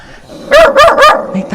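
A dog near a small house barks three times in quick succession, loud and close, followed by a quieter trailing sound.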